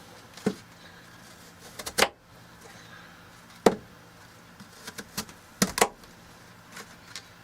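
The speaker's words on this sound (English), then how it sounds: "with my skin removed, I'm just going to cut it into quarters, like so." A paring knife cuts a peeled apple into quarters for homemade apple pie, giving several sharp, close knocks on a cutting board at irregular intervals with quiet pauses between.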